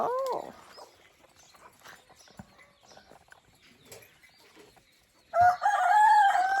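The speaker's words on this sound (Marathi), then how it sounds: "अशा तऱ्हेने कोंबडा देतोय वाघ" A rooster crows loudly and close by near the end, following quieter scattered farmyard noises and a short squawk at the start.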